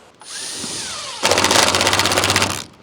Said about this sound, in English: I'm just going to put a screw in as well